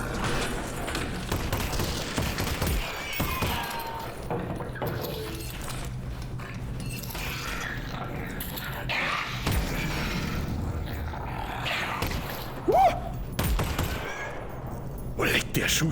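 Gunfire in the VR video game Half-Life: Alyx comes as repeated shots and thuds through a dense, noisy game soundscape, with someone talking over it.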